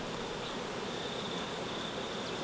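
Honeybees drone at an open hive during a winter beekeeping check, a faint, continuous buzzing hum with a steady tone and no pauses.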